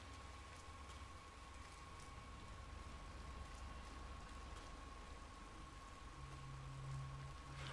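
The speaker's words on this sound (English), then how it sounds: "Rain, rain, nothing but rain." Steady rain in Hitman 3 hisses evenly throughout, soft and continuous with a faint low hum underneath and no voices.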